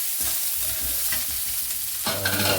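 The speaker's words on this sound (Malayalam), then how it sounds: "മുളകൊക്കെ ഇട്ട് അതൊന്ന് വഴറ്റിയിട്ട് അടുത്ത് നമുക്ക് സവാളയും കൂടെ അതിലേക്ക് ഇട്ട്" Green chilies and onion are sautéed in a pan for a leafy greens stir-fry, a steady close sizzle with rhythmic scraping strokes of a spoon, the frying growing louder and brighter near the end, with no voices.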